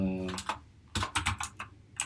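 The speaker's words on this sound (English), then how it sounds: "I'm using one of those mechanical keyboards, so it's very loud" Loud clacking of a mechanical computer keyboard, bursts of several quick keystrokes close by, with a brief low hum at the start and no talking.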